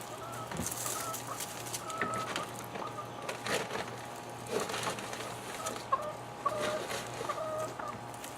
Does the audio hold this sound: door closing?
no